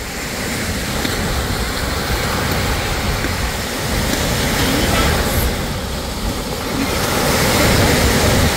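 Teal lake water breaking as surf on a sandy beach at Christmas Cove, with islands offshore; a steady, close, broadband wash of waves runs throughout, roughened by wind buffeting the microphone.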